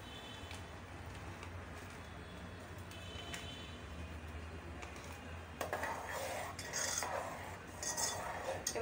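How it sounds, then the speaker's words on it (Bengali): A spoon stirs oats into milk and sugar in a pot, soft scraping at first, then louder clinks and metallic scrapes against the pan toward the end. "এবার এটা কি হচ্ছে ভালোভাবে নেড়ে চেড়ে দিতে হবে।"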